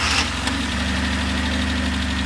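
A cold Mazda 929 engine just after a quick start, idling steadily with a low, even hum and faint mechanical rattle, close and continuous throughout.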